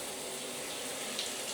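Water runs steadily from a faucet and shower while a toilet refills in a home plumbing system with a pressure booster pump, a continuous close hiss with no talk.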